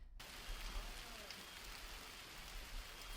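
Golf ball sized hail from a storm in central Ohio falls in a dense, continuous patter, a hissing wash of impacts with scattered sharper hits.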